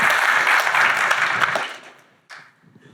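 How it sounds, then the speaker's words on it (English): An audience at a conference applauds loudly for about a second and a half, then the clapping quickly thins out and fades, with a brief last burst. "So I want all of you to give your teams a round of applause"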